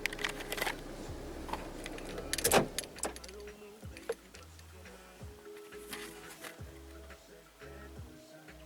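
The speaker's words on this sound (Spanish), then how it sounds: "y ahora si yo apago el motor" A car engine idles during a diagnostic scanner test of the battery and alternator, then cuts off after a loud clunk, leaving quieter mechanical ticks and faint sounds nearby.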